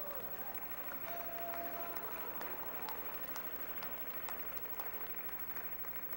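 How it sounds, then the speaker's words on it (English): A church congregation claps together in a continuous wash of applause, with crowd murmur and faint cheering mixed in, heard from mid-distance at fairly low level. "Give the Lord a clap offering today."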